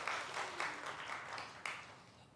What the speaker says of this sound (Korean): 오늘 우리 저 뒤에 김정미 집사님도 함께 예배드렸는데 박수 한번 환영합니다.